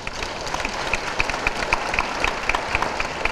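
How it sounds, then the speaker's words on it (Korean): Congregants at the founding assembly of a Korean Presbyterian church coalition applaud a pastor with a brisk, continuous round of clapping. The applause stays fairly loud throughout, with faint regular tones audible over it. "우리 한번 박수 한번 하십시오."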